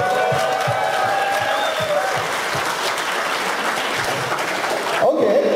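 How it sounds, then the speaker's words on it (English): A crowd at a Bangalore blogger meet applauds loudly and steadily for about five seconds, with some cheering voices in the mix and a louder swell at the end. "Let's just invite all the suckers with a big round of applause"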